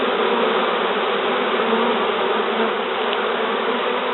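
Honeybees fan and buzz inside a sofa in a steady, dense drone that continues unbroken throughout with no voices.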